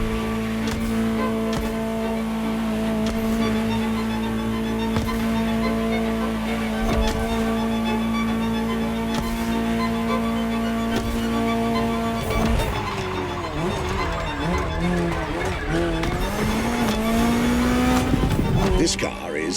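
A Ferrari GTO, a special version of the 308 GTS, drives in The Crew Motorfest, its engine droning steadily with rising revs, tire squeal and a gear change near the end, loud and close with game music or commentary underneath.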